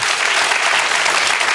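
Dense applause from a studio audience, a loud, even wash of many hands clapping close by throughout the short stretch.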